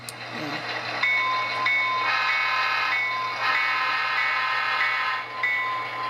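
An Athearn Genesis Santa Fe F7a model locomotive runs with its sound decoder playing a steady diesel engine rumble, with horn-like tones sounding on and off over several seconds, near and fairly loud with no talking.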